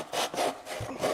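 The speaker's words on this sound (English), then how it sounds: "This hobby saw is one of my favorite tools. It's so good at sawing" A hobby saw cuts through wood in quick back-and-forth strokes, about four rasping passes in a second, close and loud with no talking.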